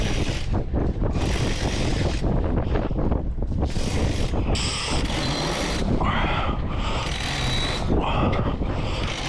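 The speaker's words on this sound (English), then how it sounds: "We're gonna put up the mainsail and then jib out again" Mainsail hoisted on a sailboat: repeated bursts of line running through pulleys and a winch ratcheting, over strong wind buffeting the microphone.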